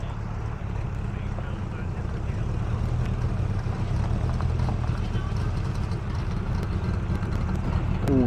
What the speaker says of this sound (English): The AC's got a hell of a chop on it.